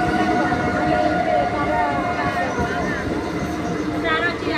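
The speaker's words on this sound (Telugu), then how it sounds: "ఇదిగోండి ఇట్లకెళ్ళి ఇంకొక ట్రైన్ వచ্చింది." A train pulls into Jamia Osmania railway station, its loud steady rumble and rolling wagon noise filling the platform with crowd chatter around it, with a brief higher squeal near the end.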